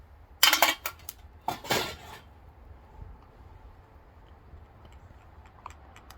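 A metal fork stirs eggs in a mess kit cook pot, two short clusters of bright scraping and clinking against the metal, then quiet low background with a few faint ticks.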